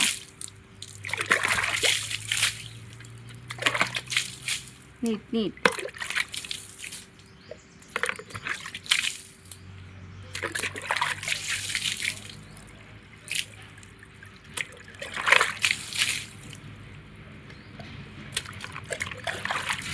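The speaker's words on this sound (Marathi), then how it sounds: "असं नाही टाकायचं जोरात टाकायचं मग धुवून जाते माती" Water is thrown hard across the ground in repeated splashing bursts to wash away soil, with dripping and trickling between throws and people talking close by.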